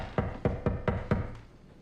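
Knocking on a door in a TV drama, five sharp evenly spaced knocks at a moderate distance, followed by a short faint sixth tap.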